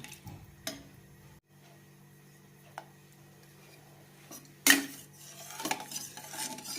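Soft scraping and clinking of a utensil mixing salted rice for Ambur kuska biryani in a metal pot, with a sharp knock midway and busier stirring noises toward the end.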